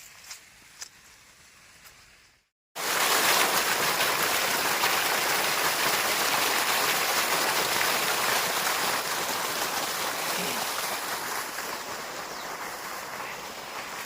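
Water gushing out of a farm pipe under strong pressure, a loud steady rushing wash that starts abruptly after a short quiet gap and holds close and constant to the end.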